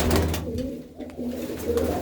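Pigeons coo in a low, rolling murmur through a short stretch, close and steady, with bird sounds dominating and no clear speech.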